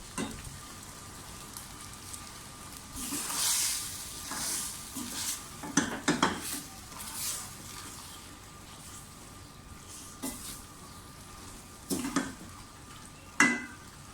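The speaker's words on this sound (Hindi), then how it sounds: "स्पैगेटीज डाल दें और मिक्स करना शुरू कर दें।" Spaghetti being mixed with chicken and vegetables in a pan, soft intermittent stirring scrapes and clatters over a faint low sizzle, fairly quiet and with no voices.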